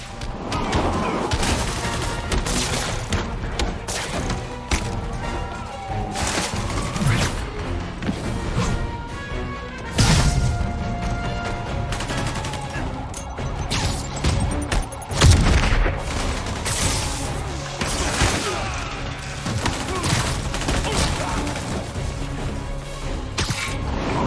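Guards firing guns in Marvel's Spider-Man Remastered during a prison break, sustained bursts of gunfire with booms and crashes over a busy game soundscape, peaking in sharp impacts at intervals.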